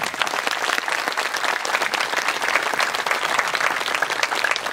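Steady, dense audience applause at a cultural festival, many hands clapping together in a continuous wash that holds an even level throughout without any talk over it.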